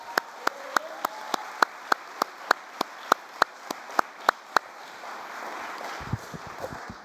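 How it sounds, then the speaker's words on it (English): A sparse, steady run of single claps at a school athletics awards event, evenly spaced and fairly close, fading out after a few seconds into quiet room noise. "I'd like to give Andrew a quick round of applause for that outstanding achievement."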